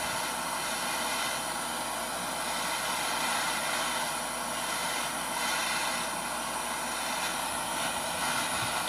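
A glass-working torch roars steadily while heating a glass straw tube, a loud continuous rushing flame that holds an even level throughout, with no talk.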